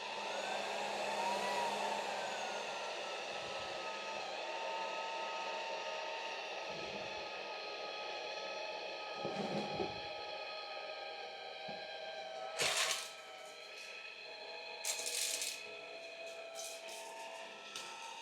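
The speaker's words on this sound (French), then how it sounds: "ce test va être réalisé en mode éco, donc la puissance d'aspiration la plus basse" A Jigoo V700 cordless vacuum cleaner runs steadily on its lowest eco suction setting, a constant whirring motor drone heard close up, with a few brief louder hissing bursts near the end.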